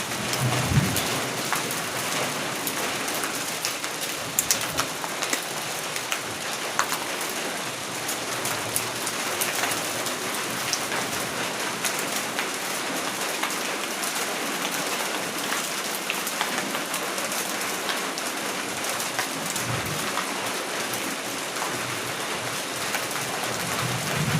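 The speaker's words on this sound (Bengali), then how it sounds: "শুরু হয়ে গেছে বৃষ্টি।" Steady heavy rain pours down on a surface during a spring afternoon storm, a dense unbroken hiss that holds for the whole stretch, with faint low thunder rumbling in the background near the start and again later.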